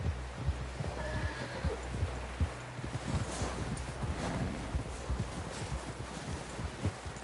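A horse neighs and whinnies in the Red Dead Redemption video game, with hoof clip-clops and wind noise running under the call throughout, no speech.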